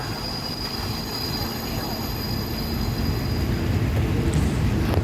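A Thai passenger rapid train rumbles steadily along the rails near Muak Lek station, with a constant low roar and faint high squealing from the wheels.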